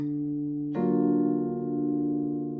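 A jazz guitar sounds a sustained rootless chord after a softer tone, the notes ringing clearly and slowly fading, played solo and up close.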